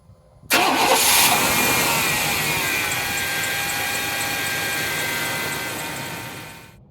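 A 1998 GMC pickup truck engine cranks and catches abruptly, then settles into a steady, loud idle rumble that fades slightly near the end.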